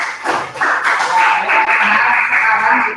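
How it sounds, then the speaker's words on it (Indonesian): Classroom applause for a student's correct answer: a steady wash of many hands clapping, fairly close and continuous for the full three seconds, with faint voices underneath. "Tepuk tangan atas jawabannya"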